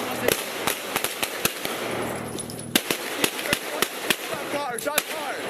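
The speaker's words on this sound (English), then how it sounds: "Shots fired." Gunfire during a police shooting in the NYPD 44th Precinct, a long rapid string of sharp cracking shots at irregular intervals, some close and loud, with shouting voices mixed in.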